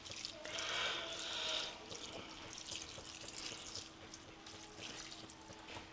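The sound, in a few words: pouring Worcestershire sauce into a bowl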